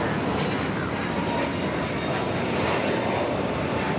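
A JetBlue Airbus A321neo jet takes off at LAX, its engines a loud, continuous broadband roar that stays steady across the whole span with no voices over it.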